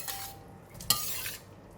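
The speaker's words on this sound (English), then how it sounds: "Give it a stir." Tofu and bean sprouts stir-fried in a pan, heard as a quiet, brief stir with one sharp metallic clink of a utensil against the pan and a light sizzle underneath.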